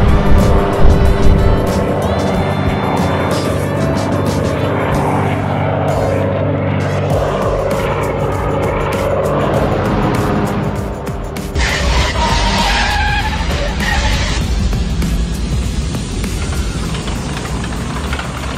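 A cartoon aircraft comes in to land with a loud, continuous roar and screeching skid-like squeals, then a rougher rumbling rush as it touches down.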